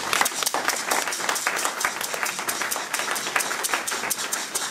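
A church congregation claps steadily together in acclaim of the Lord, a dense, even patter of many hands sustained throughout with a faint murmur of voices.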